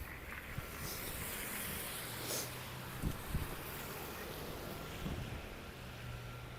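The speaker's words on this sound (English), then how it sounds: "You can see there's still a fair amount of wind blowing here." Steady outdoor wind roars across the microphone on a city street, with a few brief gusty thumps and no voices.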